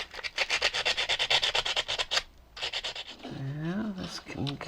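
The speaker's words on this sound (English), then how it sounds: "But first, I'm going to get this some sanding here." Sandpaper is rubbed back and forth on a part from a vintage TOMY Power Up Speedway toy racetrack, giving quick, steady, close scratchy strokes that pause briefly. A voice comes in near the end.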